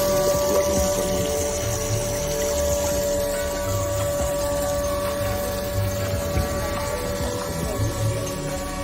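A small water pump hums steadily with a constant tone, running continuously at moderate level after a push button is pressed, with faint background noise throughout.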